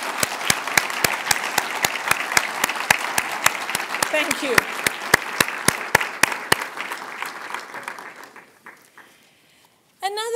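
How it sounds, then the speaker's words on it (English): An audience at a 2013 annual lecture gives a steady round of applause that thins out and fades. A brief spoken thanks follows after a short pause. "Please give them a round of applause."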